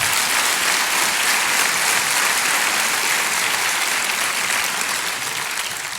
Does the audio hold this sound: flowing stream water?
no